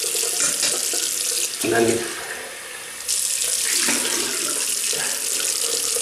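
A bathroom tap runs steadily during rinsing off shaving soap, water splashing close by with a brief interruption midway and a few quiet spoken words.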